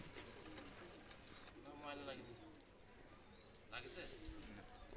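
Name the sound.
two pigeons being released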